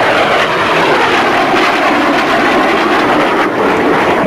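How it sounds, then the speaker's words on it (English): A Gloster Meteor jet, one of the few still flyable, passes at an air show at Cranfield, Bedfordshire, in 1994, making a loud, sustained roar that holds steady throughout. "who's flying one of the few remaining flyable Meteors"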